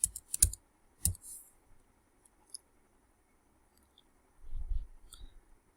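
A few quick keyboard clicks at the start, then sparse taps and a soft thump near the end, with quiet gaps between.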